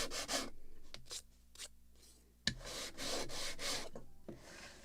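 Sandpaper scrapes a piece of wood for a Model Shipways kit of the 1776 gunboat Philadelphia in a series of short rasping strokes, then a brief pause, then a denser run of close strokes.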